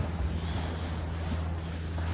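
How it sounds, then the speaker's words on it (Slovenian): Boat on the open sea near the Kornati islands, a steady low engine hum with wind buffeting the microphone and water rushing past the hull, continuous and close. "Zdaj smo pa na odprtem morju."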